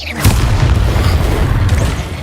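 A Confringo spell explodes in Hogwarts Legacy, a loud, close, booming blast with a sharp onset that rumbles on in a dense low roar for about two seconds.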